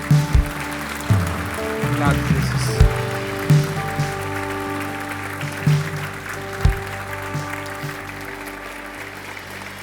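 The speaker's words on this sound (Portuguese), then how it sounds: "dê uma salva de palmas bem forte" A church congregation claps, with a bed of applause and scattered sharp claps, while a voice speaks over it.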